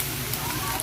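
Garlic and onion sizzling in sauce while being sautéed in a pan for a no-oven Filipino lasagna, a steady crackling hiss throughout, brief and close.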